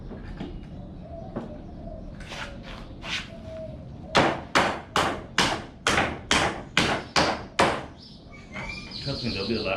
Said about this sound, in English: I don't even know how I'm using the hammer